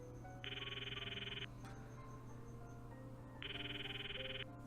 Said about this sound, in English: I enter his phone number and press call